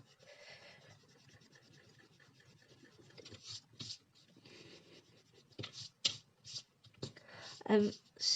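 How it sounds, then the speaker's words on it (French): A pencil eraser rubs over a paper card template in short scratchy bursts, soft at first and then stronger strokes, with quiet background noise between them. "je vais gommer tout d'abord ça"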